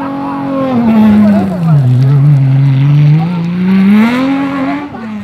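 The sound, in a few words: rally car driving a stage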